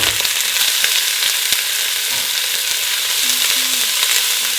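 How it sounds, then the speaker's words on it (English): Peppers, celery, onion and garlic sizzle in a hot pan with a loud, steady frying hiss and occasional stirring scrapes, and no voices. "We're going to get it nice and hot before we saute our peppers, celery, onion, and garlic"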